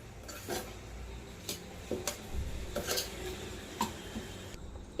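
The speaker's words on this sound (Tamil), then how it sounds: "தாளிப்போட நல்லா இப்போ மிக்ஸ் பண்ணிக்கிறேன் மாவை நான்." Quiet, irregular clinks and scrapes of a utensil mixing rice flour dough for kara kozhukattai in a bowl, soft and close with gaps between strokes.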